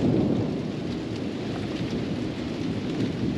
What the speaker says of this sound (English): See, there's lightning on camera.